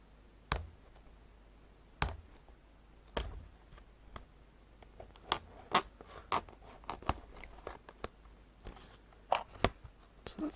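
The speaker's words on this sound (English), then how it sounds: "if I bring in my scissors, I can hopefully break the seal very easily" Sharp scissor snips and clicks, spaced unevenly at first and then coming faster, cutting through the stiff plastic seal on a Spirograph box close up in an otherwise quiet room.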